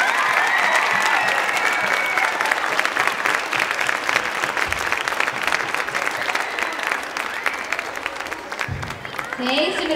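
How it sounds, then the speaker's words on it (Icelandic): A crowd of spectators applauds a women's team gymnastics group at an autumn meet, the dense, steady clapping filling the whole stretch loudly and evenly, with a brief voice near the end. "Við skulum klappa öll einu sinni viðbót fyrir þessu frábæra fimleikahópi"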